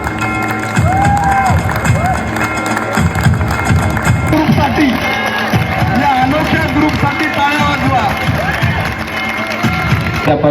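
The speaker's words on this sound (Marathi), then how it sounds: "टाळ्या वाजवा" A college audience claps and cheers to welcome a group of professors, a dense, continuous wash of applause and crowd noise mixed with shouts and voices.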